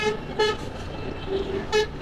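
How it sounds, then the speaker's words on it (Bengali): A car behind sounds its horn in road traffic, giving a few short, loud honks, two close together near the start and another a moment later, over a steady rumble of engines. "এই যে পিছনের গাড়িটা হুদাই হর্ন দিতেছে"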